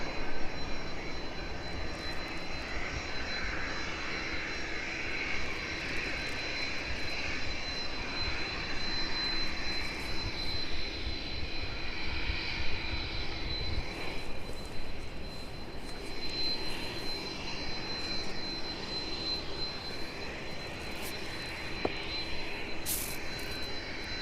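At East Midlands Airport, a Hawker Beechcraft business jet taxis onto runway 09 while other traffic clears. Its steady engine whine and roar carry from a moderate distance outdoors, continuous and fairly even for the whole stretch, with no speech.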